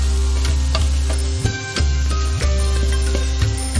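Spring onion stir-fried in a pan for spring roll filling, a soft sizzle under a steady hum, with regular spatula scrapes and taps roughly every half second.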